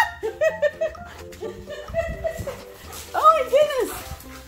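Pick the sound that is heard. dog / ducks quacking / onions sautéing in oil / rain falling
dog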